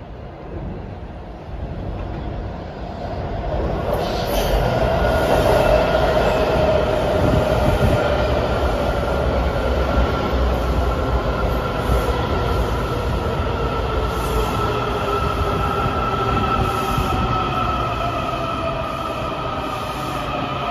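A WMATA Metrorail 7000 series Yellow Line train arrives from Potomac Yard, a loud steady rumble building and holding close by, with drawn-out wheel squeal and electric whine rising above it.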